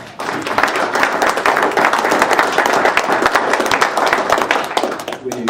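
Sustained applause from a council meeting audience, dense steady clapping that fills the room for several seconds at an even level.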